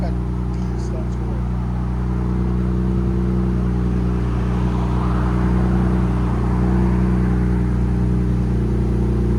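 A 2025 Ram RHO pickup with its 3.0L twin-turbo Hurricane inline-six sits at a steady, low idle through a Magnaflow SPEQ cat-back exhaust, a constant deep rumble with faint background noise throughout.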